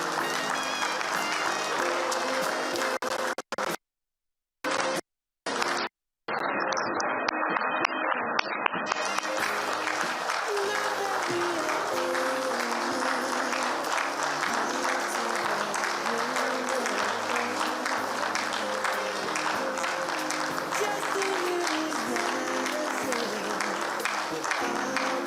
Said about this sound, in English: please keep the applause coming until she comes